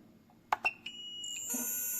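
Small Tamiya mini 4WD motor being broken in on a SkyRC 2500 Pro charger at 2.5 volts, a high-pitched electric whine rising after a few clicks and beeps and then holding steady.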